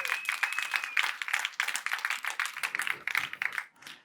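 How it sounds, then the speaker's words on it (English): A small audience at a G Suite add-ons tech presentation claps for the presenters, a lively patter of individual hand claps for about four seconds that tapers off at the end, with a brief whistle early on. "Let's give another round of applause for all of those presenters."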